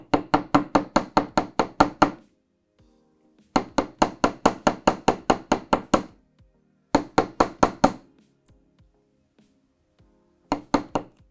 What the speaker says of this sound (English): I'm just working my way around one side of the circle, almost angling my hammer a little bit as I go.